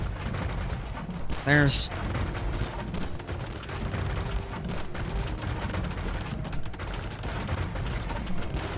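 Cannon galleons open fire in a video game battle: a short, loud cluster of booming shots about two seconds in, then steady background battle noise beneath a commentator's ongoing talk.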